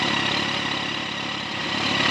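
A Yamaha FZ1 motorcycle engine idles steadily nearby, a continuous even rumble with no voices.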